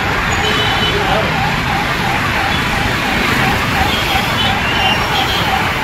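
An ambulance siren wails, jammed in heavy traffic near the Bagaluru Cross skywalk on the road to the Air Show. The wail is loud and continuous, mixed with engine noise and a voice talking over it.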